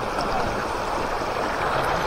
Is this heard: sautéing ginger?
no